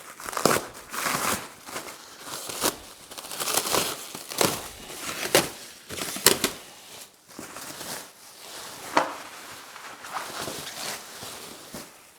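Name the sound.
cutting plastic wrap off a stump grinder crate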